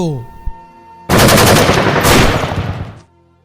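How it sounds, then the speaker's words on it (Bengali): A sudden loud burst of rapid gunfire from police rifles erupts after a brief moment of quiet during Bangladesh's quota reform protests, rattling for about two seconds before cutting off. "আবারও গুলির শব্দ"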